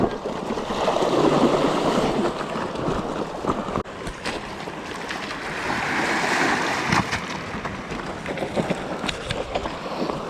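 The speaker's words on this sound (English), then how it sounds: "water fording" Dirt motorcycles ford through water on a forest trail at sunset, a steady broadband rush of churning water and spray with engine noise underneath, swelling and easing over about ten seconds, close and loud.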